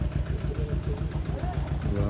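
A heavily loaded tractor labours on a mountain road during the Kedarnath yatra with a low, throbbing engine rumble that runs steadily from start to finish. Voices talk over the engine.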